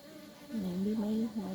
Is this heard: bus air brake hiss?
no